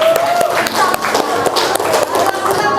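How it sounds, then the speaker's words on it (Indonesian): A classroom of students claps for the three best students, a dense, steady patter of many hands close by that lasts the whole stretch. "beri tepuk tangan untuk ketiga mereka."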